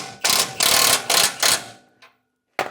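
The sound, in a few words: tightening the tow base plate bolt with a wrench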